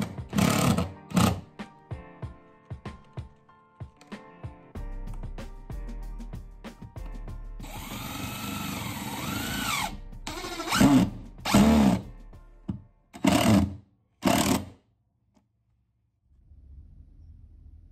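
A power drill drives a screw into wood during a shack renovation, its motor whining in several short bursts with mechanical clatter around them, close and fairly loud.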